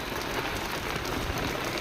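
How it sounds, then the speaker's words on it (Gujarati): Rain falling steadily on surfaces, a dense even hiss of drops, close and unbroken, with no voices. "વરસાદ ચાલુ થઈ ગયો છે"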